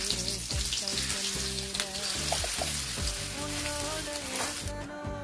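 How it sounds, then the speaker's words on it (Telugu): Garlic and onions frying in oil for coriander chutney, a soft continuous sizzle and crackle under a louder tonal melody of background music. "ఎల్లుల్లిపాయ ఇవన్నీ వేసుకొని కాస్త ఫ్రై అవనివ్వాలి"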